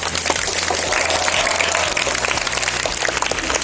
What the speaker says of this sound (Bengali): মায়েরা যারা উপস্থিত আছে তাদের জন্য একটা জোর একটা করতালি হয়ে যায়